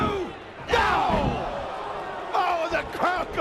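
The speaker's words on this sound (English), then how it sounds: "crowd going crazy" Wrestling arena crowd roaring at a TNA Lockdown 2007 event, loud surging swells of cheering with a sharp slam-like impact, mixed with excited commentary voices.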